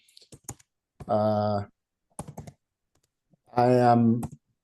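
Bursts of quick keyboard clicks sit between two longer voiced, tonal sounds, close and moderately loud.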